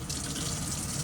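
Water runs steadily from a faucet inside a camper after a stove replacement, a close, even gushing splash that stays constant throughout the brief moment.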